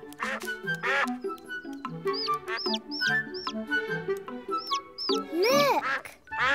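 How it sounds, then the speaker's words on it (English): Cartoon ducklings quack in quick, bright bursts over playful background music in a Miffy episode, with several squeaky calls scattered through the passage and a louder cluster near the end. "One duckling. Two ducklings. Three ducklings!"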